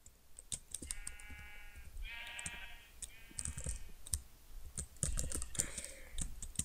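A couple of Minecraft sheep bleat in a video game, their short wavering cries mid-level and fairly close, over steady fast computer keyboard typing and mouse clicks.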